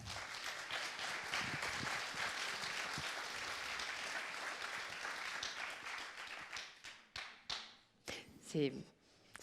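An audience claps for about six seconds in a dense, even burst that thins into scattered final claps, ending as a voice starts.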